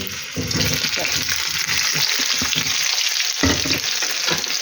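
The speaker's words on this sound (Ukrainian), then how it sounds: "я вже буду туди, туди ставити картоплю, щоб обсмажувалася" Potatoes sizzle steadily in hot oil in a pan, a loud continuous frying hiss with occasional crackles and stirring, no voices.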